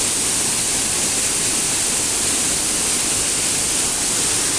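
Water pours steadily from a rock ledge into a cave-like hollow at a waterfall, a loud, unbroken broadband rush that fills the whole stretch with no other sound standing out.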